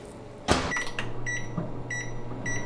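A microwave oven runs with a steady low hum after a loud door clunk, with a few faint beeps and clicks rising over the drone in a home kitchen.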